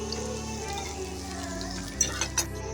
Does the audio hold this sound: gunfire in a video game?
no